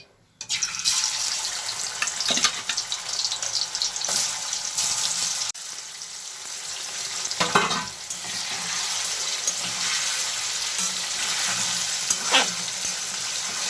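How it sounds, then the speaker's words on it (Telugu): Fish pieces dropping into well-heated oil burst into loud, dense frying, a constant close hiss broken by a few clattering bumps as the pieces are moved. "ఆయిల్ బాగా హీట్ అయింది, ఇప్పుడు ఫిష్ ముక్కలు వేసేద్దాం"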